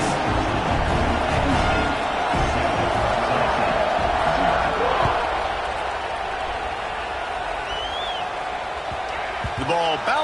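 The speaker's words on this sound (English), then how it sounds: "This crowd bringing the energy and noise early." Large football stadium crowd roaring after a kickoff in a UT vs Penn State game, a dense, loud wash of cheering that eases slightly toward the end, with brief whoops near the close.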